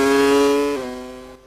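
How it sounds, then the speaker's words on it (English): A Mecachrome Renault Formula 1 engine from 1998 at the German Grand Prix screams at high revs, then drops pitch sharply as it shifts and fades, a loud tonal whine racing past on a chicane. "Listen to that Mecca Renault engine."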